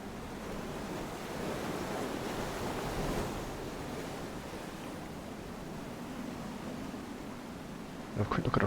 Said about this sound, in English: Sea is a bit choppy.